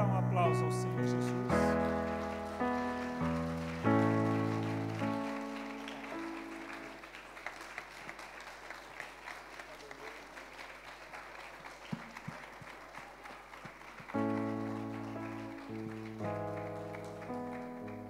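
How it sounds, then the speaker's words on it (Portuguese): A church congregation claps in applause through the middle stretch, a dense patter of hands, with keyboard music playing loudly before and after. "Você pode dar um aplauso ao Senhor Jesus."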